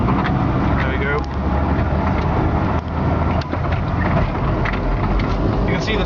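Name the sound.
Suzuki 413 Samurai challenge truck driving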